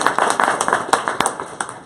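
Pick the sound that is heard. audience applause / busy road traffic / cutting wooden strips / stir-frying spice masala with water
audience applause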